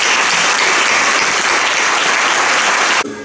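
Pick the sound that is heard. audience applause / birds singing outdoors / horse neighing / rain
audience applause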